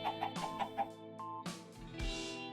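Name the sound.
chickens clucking in Minecraft Bedrock video game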